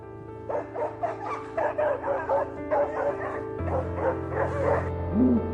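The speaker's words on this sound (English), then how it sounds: "There's a dog barking here at a black creature lying down in the forest." A dog in a forest barks persistently in a quick run of repeated yips and barks, fairly close and loud, with a whine near the end.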